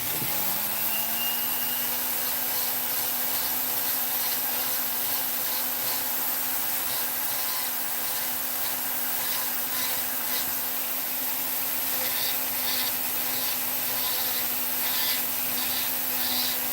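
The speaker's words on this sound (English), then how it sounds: "I'm using the Cutzel flame burr on this because I like the taper on it" A Cutzel flame-shaped burr on a rotary carver grinds into wood as a woodspirit face is shaped, giving a continuous steady whine with scratchy, rasping texture throughout, no talk.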